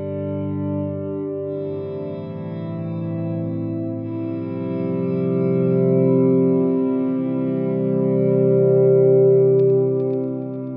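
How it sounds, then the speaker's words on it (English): Sustained guitar pad played through a Line 6 Helix with a big delay and modulated chorus echo, forming a dense, shimmering wash of layered tones that swells gently louder toward the end with no talking. "We're gonna do a big delay on here. Do the mod chorus echo."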